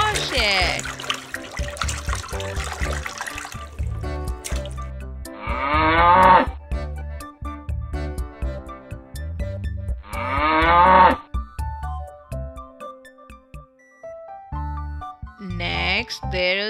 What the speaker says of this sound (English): Cow is domesticated animal and it gives us milk and it makes moo sound